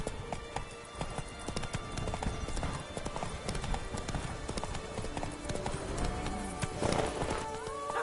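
Roach the horse gallops in The Witcher 3, with rapid, steady hoofbeats close by and a continuous rumbling bed of game ambience, plus a faint whinny-like sound near the end.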